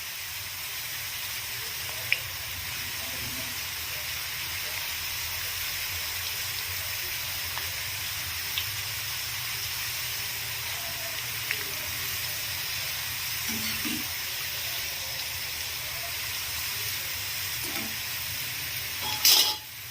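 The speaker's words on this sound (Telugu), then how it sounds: "ఒత్తుకుంటూ వీటిని మంచిగా ఫ్రై చేసుకోవాలి." Potato chips deep-fry in bubbling oil with a steady, fairly soft hiss and crackle that runs throughout, joined by a few brief scrapes and a clatter near the end.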